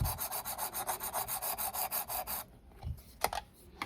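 A knife being sharpened on a Work Sharp Precision Adjust, with quick, even abrasive strokes in a steady rhythm for a couple of seconds, then a few scattered scrapes and taps, close and alone.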